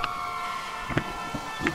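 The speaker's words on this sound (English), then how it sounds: "Here comes the ambulance." An ambulance siren wails steadily in the GTA Online video game, loud and continuous, with a few short thuds and bumps over it.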